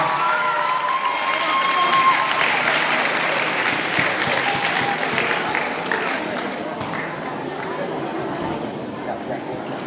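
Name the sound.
audience applause at a prize ceremony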